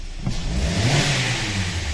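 Kia Optima 2015 with a 2.4 GDI engine revving as the gas pedal is pressed, a steady loud mid-pitched engine roar rising quickly and holding close by, with no talk over it.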